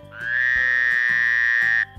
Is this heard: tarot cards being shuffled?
no